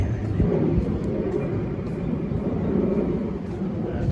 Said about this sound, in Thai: เครื่องบินไปแล้ว